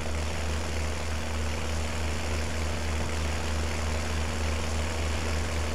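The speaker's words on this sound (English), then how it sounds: "This tractor is so noisy." Steady, droning tractor engine in Farming Simulator 19, a constant low hum with a strong low tone that holds evenly throughout, loud and alone with no talking.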